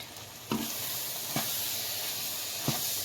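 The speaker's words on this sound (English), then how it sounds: "And now time to mix it" Herbs including rosemary, mixed herbs and oregano, tomato and red chili are stirred in a frying pan. A steady sizzle runs throughout, with a few soft scrape-like stirring strokes.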